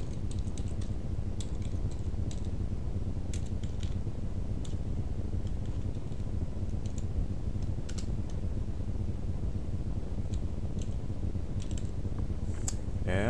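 Steady, quiet typing on a computer keyboard, a run of light irregular key clicks continuing throughout with no voice over it.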